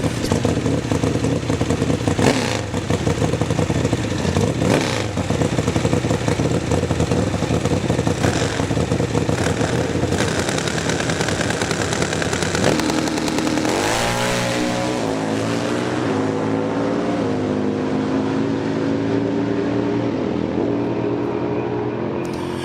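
A 2001 Harley drag-racing motorcycle runs down an AHDRA drag strip. A loud, sustained engine howl lasts throughout, with a rising sweep of revs near the middle, then the sound gradually fades as the bike pulls away.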